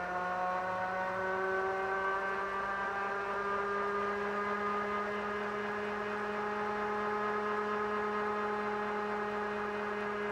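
A 1000 watt ebike motor revs up in first gear, a steady electric whine with clear harmonic tones that climb gradually in pitch over about ten seconds, close and continuous with no talking.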